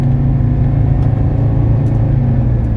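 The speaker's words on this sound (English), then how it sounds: "I just hit the kick down on the transmission. It dropped it down a gear like it's supposed to. Accelerating." A 1982 Mercedes 300D diesel accelerating hard after a transmission kickdown, with a loud, steady engine rumble and drone heard from inside the car, with no talk.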